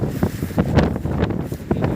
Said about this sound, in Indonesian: angin sangat kencang